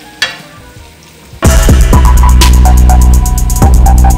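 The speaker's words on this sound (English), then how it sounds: "You want to wait until the bacon is nice and crispy." Bacon is frying in a pan for cabbage and onions: a quiet start with a single tap, then a loud, close, crackling sizzle that bursts in and carries on steadily with occasional stir scrapes, no speech.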